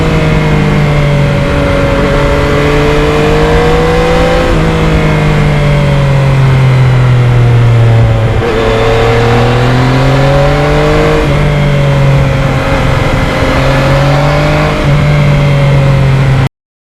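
A 2020 Yamaha MT-09 motorcycle engine runs steadily while riding, loud and close, rising and falling in pitch through several gear changes and throttle swells, with steady wind noise underneath.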